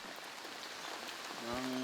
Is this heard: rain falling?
yes